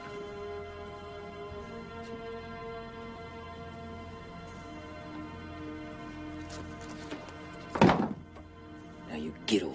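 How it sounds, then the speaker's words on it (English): A heavy gun belt drops to the ground with a single dull thud, followed by a softer rustle, heard under continuous low music and ambient tones. "You drop your gun belt."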